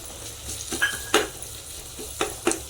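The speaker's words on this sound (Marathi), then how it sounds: "आपला कांदा मस्त पैकी झालेला आहे आपण आलं लसूणची पेस्ट टाकून घेऊ त्याच्यात" Onion fries with ginger-garlic paste in a pressure cooker for dum biryani, a low steady sizzle broken by several sharp scrapes and clinks as a spoon stirs against the metal pot.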